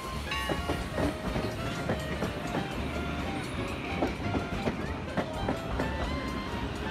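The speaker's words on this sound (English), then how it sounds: "The Railtown excursion trains operate over a 3-mile portion of the Sierra Railroad" Sierra Railway steam excursion train running over the historic 3-mile track, a steady rumble of rolling cars with repeated clickety-clack wheel beats and faint whistle-like tones, heard at moderate distance with no talk.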